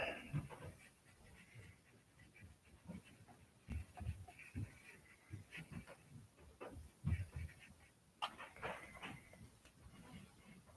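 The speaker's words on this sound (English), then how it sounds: "I hear my dog dancing, which usually means my wife's home." A pet dog moving about indoors, panting with soft scuffling and shuffling steps in irregular bursts, near and moderately quiet, with no talking.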